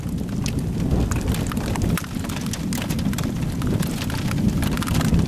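Heavy rain pours steadily during a tornado storm, a dense, loud, continuous roar of drops with gusty surges and a brief dip near the two-second mark, no voices present.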